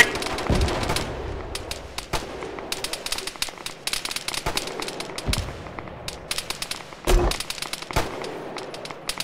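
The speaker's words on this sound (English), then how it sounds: "RPG incoming!" Scattered gunshots crack through a military combat game, with an incoming RPG in the mix: sharp cracks and irregular bursts at varied distances, some heavier thumps standing out above a busy battlefield background.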